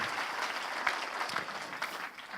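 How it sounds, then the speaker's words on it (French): A roundtable audience gives a short round of fairly faint, even applause that carries on steadily with no voices over it. "Applaudissements et encouragements pour cette demoiselle"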